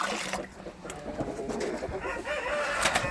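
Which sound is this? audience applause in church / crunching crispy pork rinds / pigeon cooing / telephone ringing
pigeon cooing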